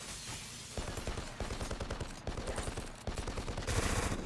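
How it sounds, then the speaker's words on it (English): Rapid full-auto gunfire from the video game BLACK, several sharp bursts of closely spaced shots separated by short pauses, loud and alone. "So for these guns, you can actually change the rate of fire. So I'm using full auto"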